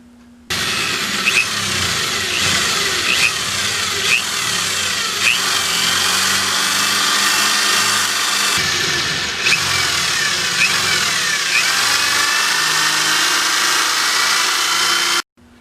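A drill bores holes through plastic tabs on a Kawasaki Ninja motorcycle fairing under repair, a steady, loud whirring drone that runs nearly unbroken for about fifteen seconds, with small shifts in pitch as the bit cuts.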